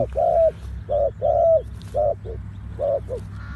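A spotted dove coos close by in a repeated phrase of about five or six hollow, rounded notes with short pauses between, loud over a low steady background rumble.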